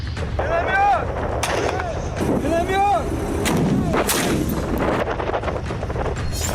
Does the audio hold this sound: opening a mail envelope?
no